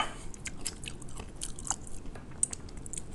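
Close, wet chewing and crunching of raw drunken crab shell and meat, with small, irregular bites and no talking.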